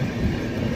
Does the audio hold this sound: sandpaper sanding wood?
no